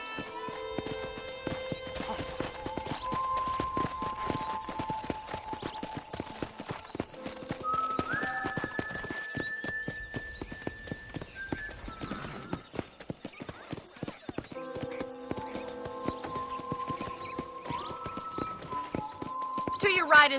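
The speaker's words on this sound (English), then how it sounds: "I picked out a fine horse for you." Steady rhythmic clip-clop of horse hooves trotting on a hard surface in Red Dead Redemption, with tonal game music and speech running over it.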